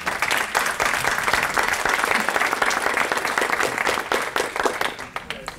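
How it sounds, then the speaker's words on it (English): At a housing and health equity event, the audience gives the panel a round of applause: dense, lively clapping from a moderate crowd, individual claps audible within the wash, holding steady before thinning out near the end. "Can we get another round of applause for our great panel?"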